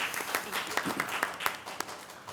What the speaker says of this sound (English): So just a round of applause for Brooke, please.